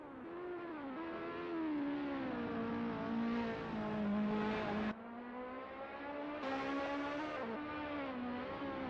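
Alpine A364 F3 race car engine in the Assetto Corsa sim at Jerez Moto, Spain, droning loudly and steadily with rising and falling pitch through gear changes and a brief lift near the middle, no talk.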